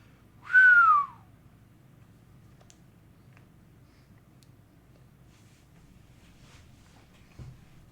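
A single descending whistle of awe, voiced by a person imitating amazement, sounds close and clear for under a second, followed by a long stretch of near silence with faint background hum.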